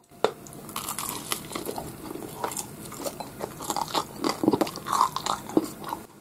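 Crispy pan-grilled miso rice ball bitten and chewed up close: a sharp initial crunch, then a run of brittle crackling crunches and chewing sounds, with no talking.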